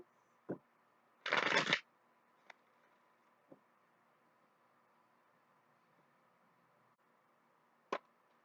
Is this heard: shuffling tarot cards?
yes